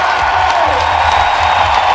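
Steady applause and crowd noise from an audience cheering a climber at the 2019 IFSC women's bouldering World Cup final in Munich, a dense unbroken wash of clapping.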